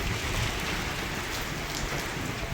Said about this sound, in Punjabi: ਹੁਣ ਕਣੀਆਂ ਦੇਖੋ ਸੜਕਾ ਜਿਹੜਾ ਗਿੱਲਾ ਹੋ ਗਿਆ ਸਾਰਾ